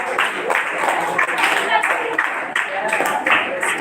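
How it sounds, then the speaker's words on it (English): A group clapping hands in a classroom seminar setting, a dense, ragged burst of claps repeating in uneven pulses, close and fairly loud, with some voices mixed in. "Clap, go."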